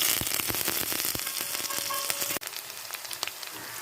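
Onion, garlic and ginger paste frying in a pan with cinnamon and bay leaves, a loud crackling sizzle dotted with sharp pops and spatter as it is stirred, settling into a softer hiss after a brief break.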